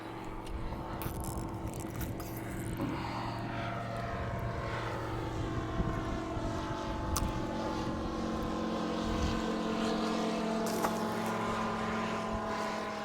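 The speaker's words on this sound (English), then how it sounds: "Plane taking off." A propeller plane taking off near a lake while fishing for pike, a steady droning engine hum with shifting tones that holds throughout, fairly loud and continuous with no talk.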